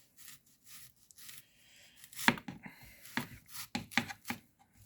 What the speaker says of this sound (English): we have a very big sweet onion here, as you can see. So we're going to slice that